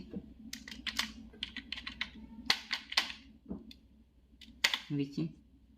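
Keys click on a computer keyboard as an English sentence is typed out for a grammar lesson. The bursts of clicking are fairly close and come in uneven runs, mixed with a person talking.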